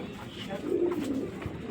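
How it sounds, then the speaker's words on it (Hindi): Pigeons cooing in a flock kept at home, soft repeated low coos close by over faint background murmur. "ये देखें ये सारे ही कबूतर इनके।"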